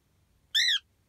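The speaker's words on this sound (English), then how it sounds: "Silly bird. Silly birdie." A pet bird in a parked car gives a single short, bright whistled call, clear and close in an otherwise quiet cabin.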